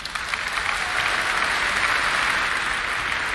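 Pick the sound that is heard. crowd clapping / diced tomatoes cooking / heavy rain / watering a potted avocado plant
crowd clapping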